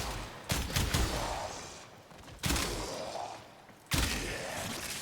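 Three heavy, loud bursts from the Kuva Kohm shotgun in Warframe, fired at level 55 enemies on the regular star chart, each a sharp crack with a long decaying roar, spaced roughly two seconds apart.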